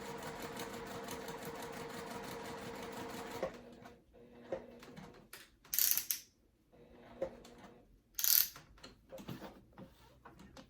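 A sewing machine back-stitching a rectangle at 2.5 stitch length, a steady whirring motor run for about three seconds, then softer start-stop mechanical clicks as it pivots, with two sharp bright bursts of noise between.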